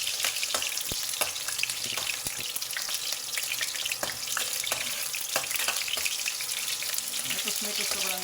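Garlic and onion fry in hot oil for monggo, giving a steady, close, dense crackling sizzle with scattered sharp pops and the odd scrape of a utensil against the pan throughout.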